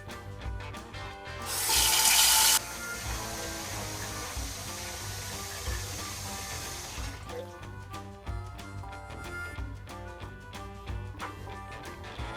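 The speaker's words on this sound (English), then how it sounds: "first thing I have to do is put some water in the bottom of my steam juicer" Water runs from a tap into the metal base of a steam juicer. A loud, bright gush lasts about a second, then gives way to softer splashing and clattering, close by and with no voices.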